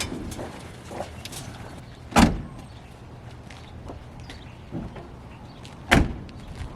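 Door of a 1967 Chevrolet C10 pickup truck opening, with two sharp metallic clunks of the latch and door a few seconds apart, close by over low background rumble.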